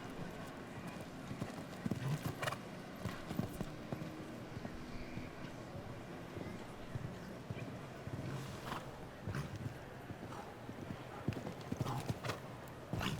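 A big black 12-year-old mare cantering a show jumping round at a grand prix, her hoofbeats thudding in a steady rhythmic clip-clop over the arena footing, moderately close and without speech.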